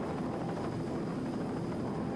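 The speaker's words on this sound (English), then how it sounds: "525 Mercury Racing inboard powers this Bravo propelled 27-foot activator Superheat out of Long Island, New York." Roaring engine of a 27-foot racing powerboat driven by a 525 Mercury Racing inboard with Bravo drive at an offshore grand prix in Ocean City, Maryland, a steady loud continuous drone.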